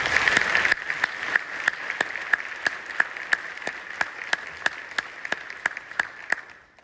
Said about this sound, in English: Please join me in giving the Congressman another round of applause.